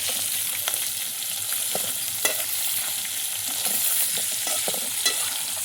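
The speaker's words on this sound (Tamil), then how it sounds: "நண்டை அப்படியே எண்ணெயில் போட்டாச்சு நம்ம கிண்டிட வேண்டியதான்" Crab pieces fry in hot oil while being stirred, a continuous close sizzle with scattered scraping and clinking of the ladle against the pan, no voices.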